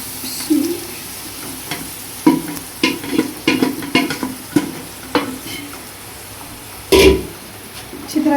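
Boiled mutton being sautéed and stirred in a pan with bursts of sizzling and scraping strokes, some loud clatters, and a voice murmuring briefly in a home kitchen.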